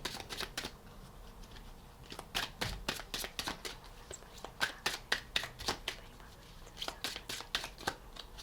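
Tarot cards riffled and shuffled in repeated quick bursts, crisp papery flutters close by with brief pauses between, no voices.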